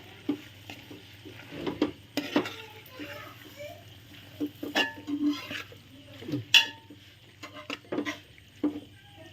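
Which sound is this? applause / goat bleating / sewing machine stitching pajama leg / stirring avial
stirring avial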